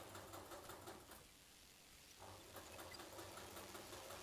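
A sewing machine stitching a soft jersey waistband, a close, steady rapid whirring patter that stops briefly for about a second before resuming at the same pace.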